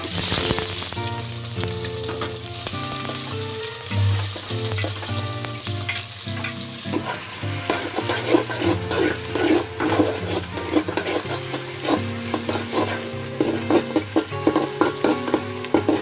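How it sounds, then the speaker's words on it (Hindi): Onions sizzle and fry in a pan as the base for a mutton curry, a steady loud crackling hiss that runs throughout with occasional stirring and scraping of a utensil against the pan. "पियाज पकईदेवा।"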